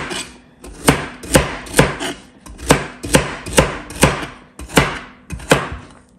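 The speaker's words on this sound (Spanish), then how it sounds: "Entonces, la zanahoria la picamos en cuatro. Y la picamos en pedacitos pequeñitos." A knife chops a raw carrot into small pieces on a cutting board, about a dozen sharp, evenly spaced thuds close up, with no talk over them.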